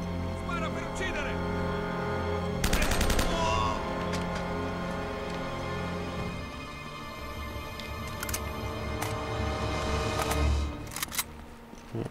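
Sharp gunshot bursts from Uncharted: Drake's Fortune crack out around the three-second mark, with a few later isolated shots over a steady game soundtrack and background hum.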